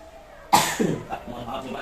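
A single sharp cough bursts out suddenly after near quiet, followed by a brief rough trailing breath.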